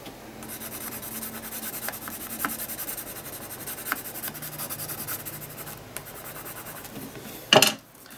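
A pencil shades on paper with soft, continuous scratchy rubbing strokes, close and fairly quiet, and a brief louder scrape near the end, with no talking.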